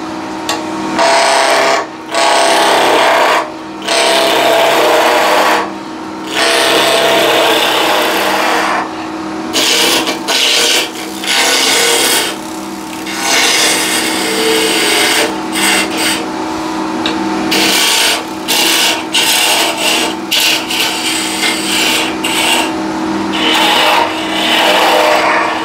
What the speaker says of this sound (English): first step is to remove the corners and make it nice and round. And for that I'll be using 1-inch skew